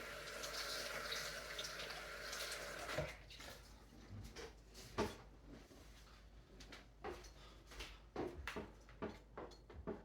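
A tap runs loudly as sticky sourdough is washed off hands at a sink, a steady splashing stream that then stops, leaving scattered close clinks and knocks, with no talking.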